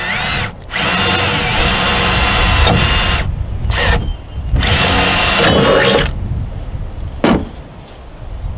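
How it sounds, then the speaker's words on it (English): Loud power drill whirring in several bursts while drilling a pilot hole in a Toyota Tacoma truck bed channel, with short pauses between runs and a brief final spurt near the end. "I will drill a hole in there"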